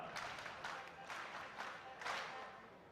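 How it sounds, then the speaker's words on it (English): A round of applause at a party delegates conference rises and swells from a crowd, a faint, distant patter of many hands clapping steadily. "May we give Venezuela a round of applause"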